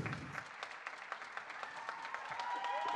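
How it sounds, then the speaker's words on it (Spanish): An audience at a evening concert festival claps in a steady, sustained burst of applause welcoming a violinist, heard at moderate distance in a hall. "Acá un gran aplauso"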